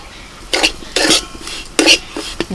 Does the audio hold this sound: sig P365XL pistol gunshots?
no